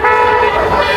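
A loud, sustained car horn blares on a Chicago street during a "honk for Jesus" roadside event, one long continuous honk close by, with no voices over it.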